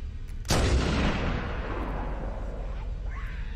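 Gunfire in the Halo: Combat Evolved video game: a single loud, booming shot cracks out suddenly and decays into a long rumbling tail, with faint game ambience around it.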